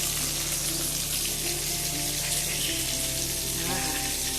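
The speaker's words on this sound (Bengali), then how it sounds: "গরম তেলটাকে আর একটু গরম করতে হবে, ওই তেলটা আর একটু ভালো করে গরম হয়নি" Oil heats in a pan with a steady, dense sizzle that hisses loudly and evenly throughout, with no voices over it.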